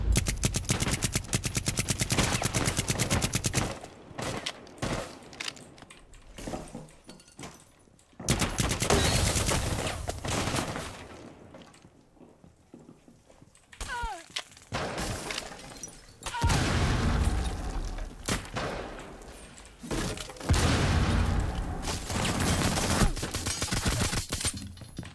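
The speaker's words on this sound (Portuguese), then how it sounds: "Os malucos me cercaram de bala, velho." Gunfire in the video game Rainbow Six Siege, with rapid automatic bursts and single shots coming in loud clusters separated by quieter gaps, plus occasional impacts, and no voices.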